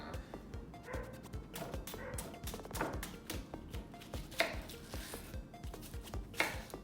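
A knife chops an onion on a cutting board in a quick, irregular series of close, sharp knocks, with a few louder clacks and no talking.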